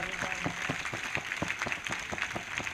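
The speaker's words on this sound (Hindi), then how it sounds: "जोरदार तालियों के साथ" Steady, dense applause from a church congregation fills the space, a continuous wash of many hands clapping at close to moderate distance with regular rhythmic pulses, as if clapping along together.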